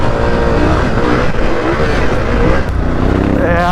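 A Yamaha T7 adventure motorcycle riding off-road, its engine droning loud and close with a steady, rough, rising-and-falling throttle note throughout.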